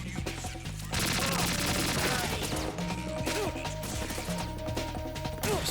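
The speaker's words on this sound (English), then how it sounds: "I'm gonna shoot my way out of here" Rapid bursts of automatic gunfire crackle through a Metal Gear Solid 2 firefight, dense repeated shots with sharp impacts running almost continuously after a brief quieter opening.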